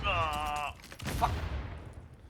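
Sniper gunfire in The Division, a sharp broadband crack followed by a rumbling tail and a second report, loud over game ambience with a tonal sound at the start.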